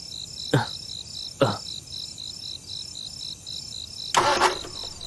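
A car engine is cranked but fails to start, in three short bursts with gaps between them, over a constant chorus of crickets.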